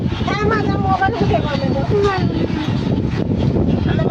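Steady rumbling roar of a moving Indian Railways train on the Dadar to Kudal route in the monsoon, heard from inside a carriage, continuous and fairly loud beneath people talking.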